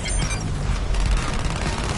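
Dense, rolling gunfire crackles nonstop as shots hit a cannon in Suicide Squad: Kill the Justice League, a loud continuous barrage with booming low thuds and no talking.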